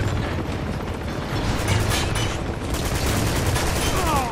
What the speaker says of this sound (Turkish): Oha, roket attı manyak.